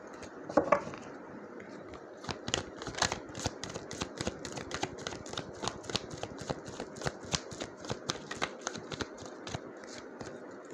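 A deck of tarot cards is shuffled by hand in a long run of quick, crisp riffles and slaps. The sound is close and moderately quiet, with soft room noise underneath.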